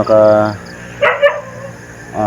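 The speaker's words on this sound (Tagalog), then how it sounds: "So dyan may aso pa nga dyan" A dog near huts and houses lets out two quick, moderately loud barks in a row, with someone talking just before and just after.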